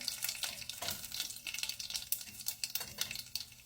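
Mustard, cumin and carom seeds spluttering in hot oil for a potato and pea curry, a dense crackle of tiny pops and sizzle, close and continuous without any talking.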